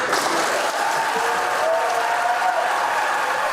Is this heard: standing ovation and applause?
yes